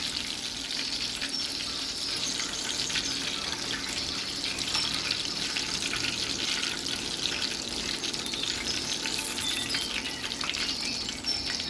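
Hot and spicy shrimp frying in a hot pan, a steady dense crackling sizzle that runs unbroken and fairly close throughout, with no talking over it.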